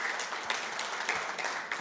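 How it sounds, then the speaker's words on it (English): Audience applause as speakers are welcomed onto the stage at a conference on AI and digital sovereignty, a steady wash of many hands clapping from start to finish, with no speech over it. "Give me a round of applause."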